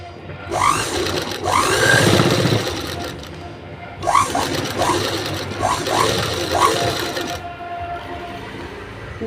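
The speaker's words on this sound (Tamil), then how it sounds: "அதனால் வந்து பொறுமையாக தைக்கணும்." A sewing machine stitches piping onto a garment in two close bursts of rapid, even needle chatter, with a brief pause between runs and a person speaking softly over it.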